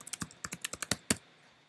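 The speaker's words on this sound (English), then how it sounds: "as soon as you start typing something" Brisk typing on a computer keyboard, a run of about a dozen crisp, close keystrokes in quick rhythm ending with a heavier final key press, then quiet, no talking.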